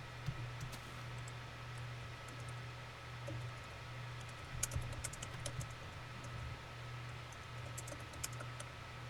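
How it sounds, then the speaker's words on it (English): Someone types on a computer keyboard, quiet and steady, with irregular soft clicks that bunch into a brief busier flurry midway, over a low constant hum. "Let there be typing."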